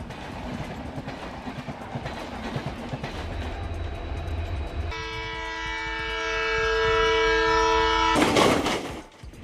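A Holi special passenger train rolls past with rhythmic clatter, then a loud, sustained multi-tone horn blares for several seconds before cutting off.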